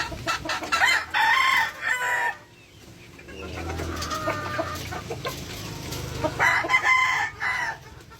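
Young stag roosters of a gray fighting-cock line call out on a farm, loud bursts of crowing at the start and again near the end, with softer clucking and barnyard noise in between.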